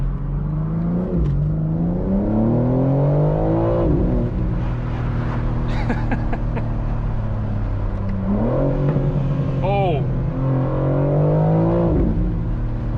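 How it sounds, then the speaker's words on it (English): A 2025 BMW M4 Competition Convertible LCI, in its most aggressive mode, accelerates hard through the gears, each loud engine rise dropping at a shift, with a single startled exclamation from inside the car. "So this engine has some kick to it."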